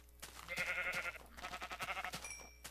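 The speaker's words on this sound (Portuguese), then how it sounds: "Ovelha já." Minecraft sheep bleating in a quick series of wavering calls, moderately close, followed by a short gap and a few chime-like tones.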